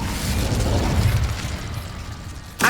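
Fire spell cast in the video game Hogwarts Legacy: a low rumbling magical burst with crackling body, followed near the end by a sharp, bright flare of sound.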